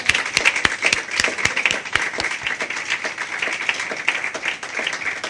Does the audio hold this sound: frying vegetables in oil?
no